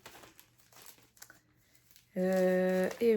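Scissors cut through the crinkly plastic packaging of a Riolis craft kit: a run of soft close rustles and snips, then a loud sustained tonal sound near the end.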